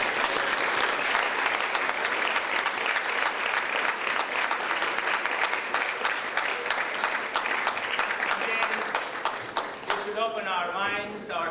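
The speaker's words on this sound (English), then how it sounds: "So I think we should start by giving her a big round of applause for being so kind." Sustained, dense applause fills a gala hall at a charity fundraising event, steady and loud throughout before tapering near the end as voices begin to emerge over the fading claps.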